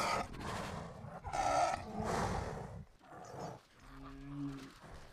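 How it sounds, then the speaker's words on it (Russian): A cave troll's breathing built from a tiger's inhale and a Canadian lynx's exhale, heavy, rough, throaty breaths rising and falling close up, ending in a low resonant growl. "Для вдоха лучше всего подошел тигр, а выдох в итоге получился от канадской рыси."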